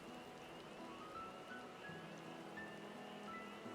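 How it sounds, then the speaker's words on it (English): Steady rain in the online fantasy game Final Fantasy XIV, a soft, even patter and hiss that holds at a constant low level throughout, with faint background music underneath. "See, it does rain here"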